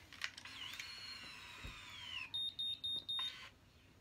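A ConAir Infinity hair curler gives four short, evenly spaced electronic beeps, clear and close, following a thin, faint whine.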